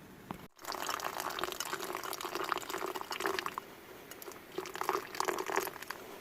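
Coffee drips through a paper towel filter set on a woodstove inside a hot tent while camping on the Appalachian Trail, making a steady close trickle and patter with no talking.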